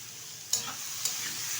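Chopped bitter gourd fries in a pan, a steady soft sizzle with two brief scraping stirs of a spatula.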